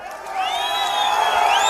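A crowd at a political rally roars continuously, loud and close, with shrill whistle-like tones sliding and rising above the mass of voices for the whole stretch and no break.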